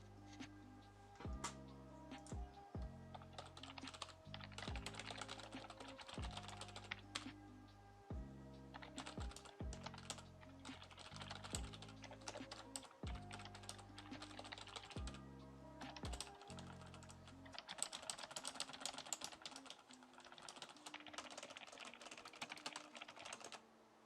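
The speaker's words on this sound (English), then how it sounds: "Let me quickly put in a sound clip of the sound test of the keyboard." Keys on a budget gaming keyboard costing under £50 are typed close up in a sound test, giving rapid clicky keystrokes in bursts, mixed at times with quiet background music.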